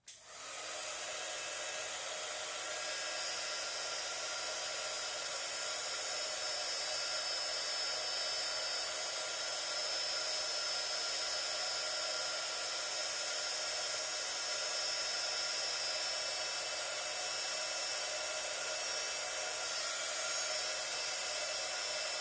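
A heat gun runs steadily and loudly for the whole stretch, giving a constant airy roar without pauses.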